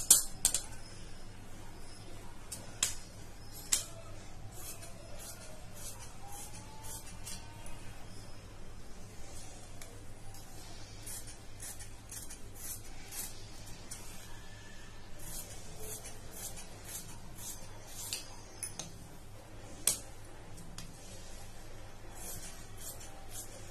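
Scissors cutting blouse lining fabric, heard as faint, repeated crisp snips at irregular intervals against a quiet, low-humming room, close and soft.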